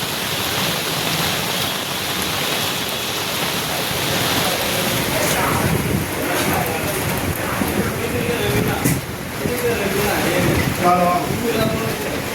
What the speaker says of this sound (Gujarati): જ્યાં સુરતનો એરિયા છે ત્યાં વરસાદ પડી રહ્યો છે અત્યારે।